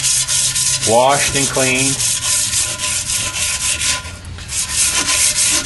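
Sandpaper scuffs the surface of a chrome wheel barrel in a steady, close, continuous rasp of rubbing strokes, with a brief spoken phrase near the start.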